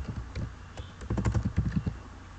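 Soft keystrokes on a computer keyboard as a word is typed into the Windows search bar, a quick burst of clicks close up and fairly quiet.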